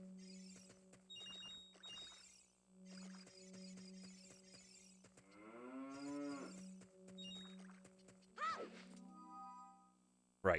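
A cow in Zelda: Ocarina of Time 3D lets out a drawn-out, swooping moo midway, set among tonal game music and chimes, with a sharp hit near the end.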